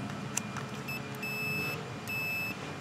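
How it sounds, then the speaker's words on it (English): A multimeter on a continuity test while wiring a backyard pavilion gives several sustained electronic tones that start and stop, over a low background rumble. "So we hear the beep,"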